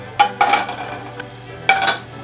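Duck fat hisses in several hot frying pans as spoonfuls go in, giving a few sharp sizzling bursts with light stirring and utensil clatter, fairly close and without talk.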